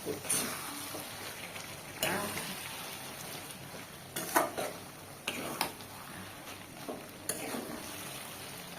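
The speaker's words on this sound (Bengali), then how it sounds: "দেখেছেন ভাজা ভাজা হয়ে গেছে, একদম পোড়া পোড়া তেল বেরিয়ে তেলে চকচক করছে" Fish frying in hot oil with leaves keeps up a steady close sizzle, broken by several sharp scraping and clattering bursts as the pieces are stirred and turned in the pan.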